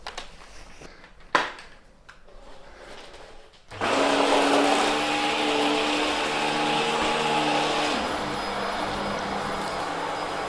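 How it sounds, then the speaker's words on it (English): A Hoover H Upright 500 Sensor Plus upright vacuum cleaner starts after a few seconds of quiet handling noises, then runs loud and steady with a broad roaring whir, its pitch shifting slightly about halfway through. "did you hear the sound of the vacuum change then?"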